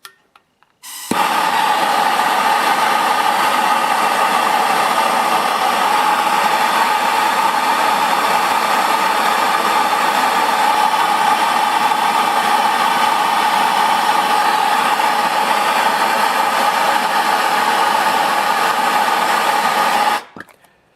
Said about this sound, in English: Now I'm going to heat this up red hot with the biggest flame I can get off this torch.